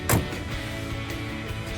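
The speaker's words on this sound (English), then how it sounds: "Door closes" A 1964 Chevrolet Impala door swings shut with a single short thump near the start, followed by a quiet, steady background hum.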